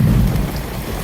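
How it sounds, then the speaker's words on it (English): Heavy rain begins pouring in Texas, a dense loud roar with low rumbling like distant thunder, steady throughout with no voices. "It is starting to pour."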